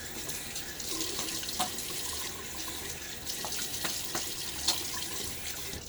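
Water streams from a bathroom tap into a sink to rinse a safety razor and face during a wet shave, a steady close splashing with brief clinks and knocks, no talking.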